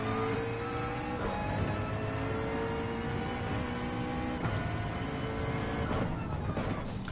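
A McLaren race car engine in Gran Turismo 7 drones steadily at full throttle while racing at Road Atlanta, a loud, continuous tonal roar with shifting pitch that carries on without a break and has no talking over it.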